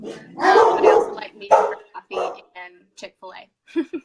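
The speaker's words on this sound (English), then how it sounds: "Pardon my dogs. They bark at everything." Dogs bark in short yips, apparently in a home, several sharp barks popping up under and between a woman's close conversational speech.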